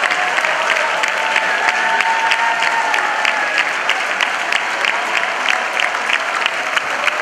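Dense, sustained applause from a large audience at a choir festival's Grand Prix award moment, steady clapping filling the hall without pause, with a faint voice drifting over it.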